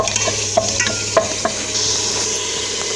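Meat being stir-fried (bhuna) with browned onion and tomato in a pan, a steady close sizzle with scattered scrapes and taps of the stirring spoon.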